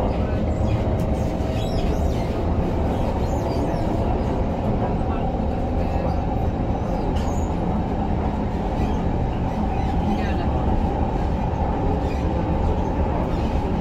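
A Singapore MRT train runs between Aljunied and Kallang stations, giving a loud, steady interior rumble and roar throughout, with a person talking over the running noise.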